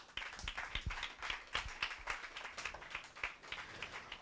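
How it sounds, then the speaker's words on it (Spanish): A church congregation claps in praise during a sermon, a faint, uneven patter of many hands that stays steady for several seconds, with no voices over it. "Denle un aplauso a Cristo."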